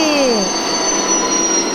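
A train passes in the mobile game Indian Bike Driving 3D, a loud, close rumble with high squealing wheel tones and sliding pitch, continuous throughout.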